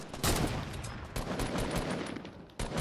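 Rapid bursts of gunfire in the Fortnite video game, loud and dense throughout, with brief pauses between volleys and a sharp new burst near the end.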